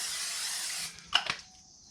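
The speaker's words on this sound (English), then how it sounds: "So next we're going to take our spray. We like to use this Grill Master by Crisco." Crisco Grill Master cooking spray hisses out of its can in a steady close stream for almost a second, then stops; a few light clicks and handling taps of the can follow.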